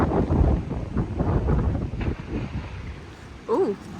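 Gusty wind rumbles and buffets the microphone in an outdoor horse pen, loud and uneven at first and then easing. A short voice-like sound comes near the end.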